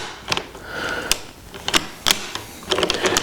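Steel bolt of a Mosin Nagant rifle sliding back into the action, a run of sharp metallic clicks and clacks with a brief scraping rasp, close and fairly quiet, ending in a cluster of rattling contacts.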